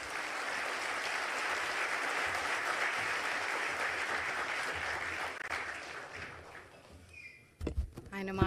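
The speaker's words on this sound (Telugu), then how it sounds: "చప్పట్లు నడుస్తూనే ఉన్నాయి జరిగినంతసేపు." Audience applause follows a speech by Union Minister Ram Mohan Naidu: dense, steady clapping holds for about seven seconds, then thins out and gives way to a few scattered louder sounds near the end.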